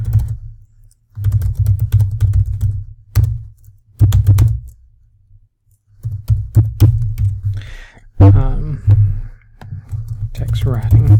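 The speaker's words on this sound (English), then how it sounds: "So I'll type in my question." Clicky typing on a computer keyboard while entering a question into an online form, coming in irregular bursts of keystrokes separated by short pauses, close and fairly loud.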